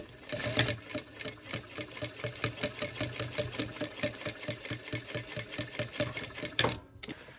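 A sewing machine top stitching clothing during alterations runs in quick, steady bursts of rhythmic needle clatter, close and clear, with brief pauses and a sharp clunk near the end.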